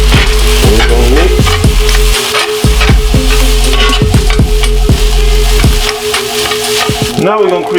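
Steak and shrimp being mixed with hoisin sauce on a hibachi griddle, a loud steady sizzle with rapid repeated spatula scrapes and clanks close up throughout.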